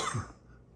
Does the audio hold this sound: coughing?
yes